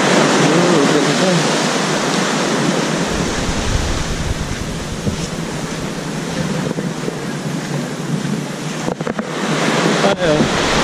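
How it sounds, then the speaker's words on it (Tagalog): Sea waves wash steadily onto the shore at Krabi, Thailand, a loud continuous roar of surf with wind buffeting the microphone, and a few voices are faintly present. "narinig lang natin yung aalon"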